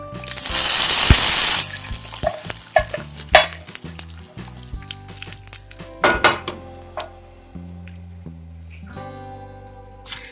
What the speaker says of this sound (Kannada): ಈಗ ಒಗ್ಗರಣೆ ಹಾಕೋ.